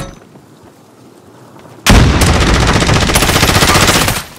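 Sustained automatic gunfire erupts suddenly in a video game match and roars on loudly and densely for over two seconds before cutting off, after a quieter ambient stretch, with no talking over it.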